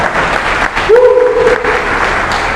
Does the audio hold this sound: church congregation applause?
yes